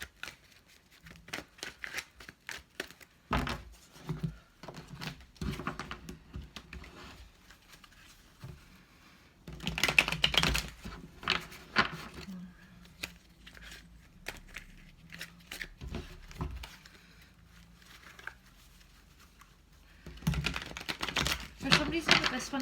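A tarot deck being shuffled by hand: quiet, irregular bursts of rapid papery flicking and riffling, with louder clusters near the middle and the end.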